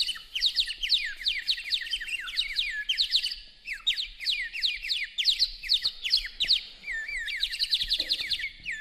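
A small nightingale sings nearby in rapid, repeated chirping and trilling phrases, clear and continuous with no voices.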